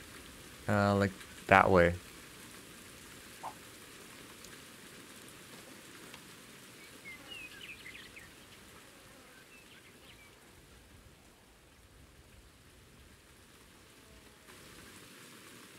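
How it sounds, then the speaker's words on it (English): Steady rain from the fishing game Ultimate Fishing Simulator falls as a soft, continuous hiss throughout, with a brief burst of speech near the start. "I'm gonna forward so the rain goes away."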